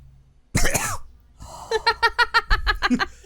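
A short sharp cough, then a quick rhythmic series of about ten small hacking coughs, close and fairly loud.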